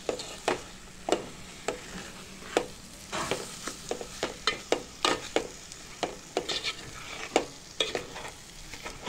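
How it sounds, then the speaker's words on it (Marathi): Chicken keema masala sizzles in oil in a pan while a spatula scrapes and stirs it, producing sharp, irregular clacks over a constant frying hiss. "हा आपला मसाला छानपैकी आता परतत आलेला आहे"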